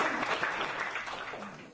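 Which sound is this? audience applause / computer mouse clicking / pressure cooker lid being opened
audience applause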